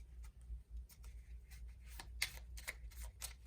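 Healing angel oracle cards being shuffled by hand, a quick series of soft papery riffles and flicks, close and quiet, with brief pauses between bursts.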